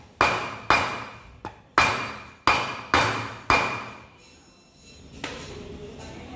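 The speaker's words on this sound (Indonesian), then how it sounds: "Ini juga kita melakukan penggunaan palu karet ya." A rubber mallet taps a bearing into place, delivering six sharp, evenly paced blows with a brief metallic ring after each, followed by a quieter stretch and one light knock.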